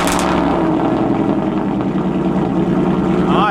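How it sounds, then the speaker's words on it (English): A Ford F-150 pickup engine, remote-started while still warm, runs at a steady, loud idle, a continuous low rumble with an even drone that holds for the whole stretch and no voices over it. "So the F-150, I can actually remote start it, as we know here."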